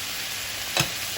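Meat sizzles steadily in a hot pan as it is sealed for carbonara, a soft constant frying hiss broken by one brief louder crackle from stirring.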